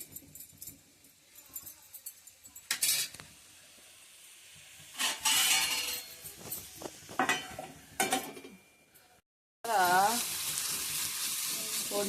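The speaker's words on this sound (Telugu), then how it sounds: "టమాటా బాగా మగ్గే వరకు కలుపుతూ మగ్గించేసుకోండి మూత పెట్టేసి" Tomatoes cooking in a pan while being stirred, soft sizzling broken by a few louder bursts of scraping and clatter, fairly close, with faint voices in the background.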